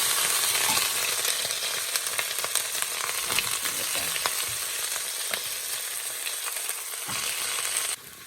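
Onion and green chillies fry hard in a pan, a loud, steady close-up sizzle with scattered crackles and pops that drops away abruptly at the end.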